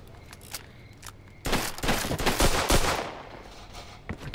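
Video game gunfire in Mafia 2 Remastered, opening with a few scattered shots and then breaking into a dense, loud burst of rapid overlapping automatic fire lasting about a second and a half before it thins out to isolated shots.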